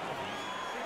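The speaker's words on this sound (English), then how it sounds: "Crowd still buzzing after what we saw just a few moments ago." A hockey arena crowd in the video game NHL 22 keeps up a steady, even murmur throughout, a diffuse background buzz of many voices with no single standout cheer.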